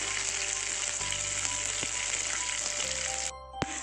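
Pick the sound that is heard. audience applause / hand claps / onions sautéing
onions sautéing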